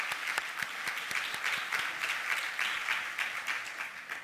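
A church congregation applauds the choir during a worship service, warm steady clapping from many hands with a few sharper individual claps standing out, softly captured at a middle distance.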